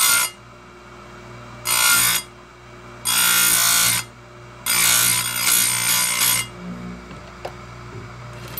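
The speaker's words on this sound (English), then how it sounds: "Bring your grinder down." An Oregon 410-120 bench grinder sharpens a chainsaw chain tooth in three loud bursts of high, gritty grinding, each about a second long, with a steady motor hum running between and after them.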